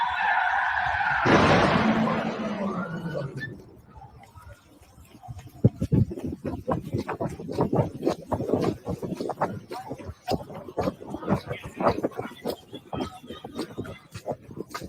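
A stolen car in a carjacking in Washington, DC, tires screeching loudly at first, then the engine and road noise rumbling away under frantic shouting voices nearby.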